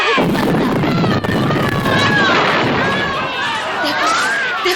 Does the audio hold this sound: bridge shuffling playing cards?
no